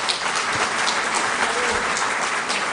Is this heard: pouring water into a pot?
no